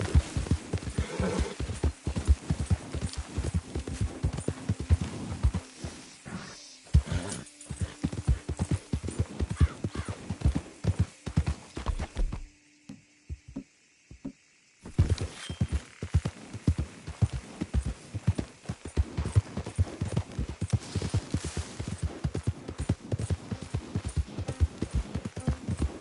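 Galloping horse hooves from Red Dead Redemption II pound in a fast, continuous rhythm, with a brief whinny, a short near-silent break midway, then the gallop resumes strongly.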